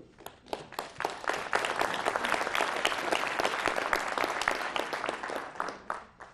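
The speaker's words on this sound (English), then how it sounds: "he got more applause than I did" Audience applause at a Senate book event, a dense steady clapping that swells quickly, holds for several seconds and thins toward the end with scattered final claps.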